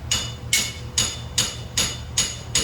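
Light hammer taps drive a dowel pin into a 2010 Subaru Outback Sport transmission, six evenly spaced metallic knocks about half a second apart, close and fairly loud.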